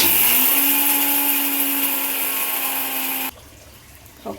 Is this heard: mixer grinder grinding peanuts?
yes